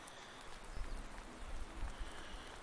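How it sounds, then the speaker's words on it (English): Rain falling in the farming game Farming Simulator 19 during a sunny rainstorm, a steady, quiet broadband patter with faint low thuds and no talk. "Got one of them funny rainstorms on here where the sun is shining but that's still raining."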